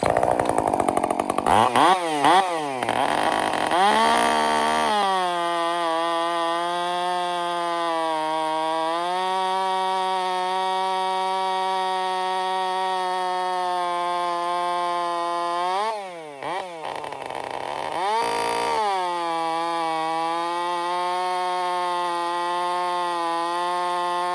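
A chainsaw fitted with a hardwood chain revs and bites steadily into hardwood in Oklahoma, loud and close, its engine pitch dipping under load during long cuts and rising briefly between them.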